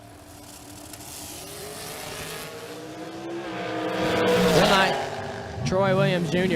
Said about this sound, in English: This of course being first pair of dragsters going down the racetrack.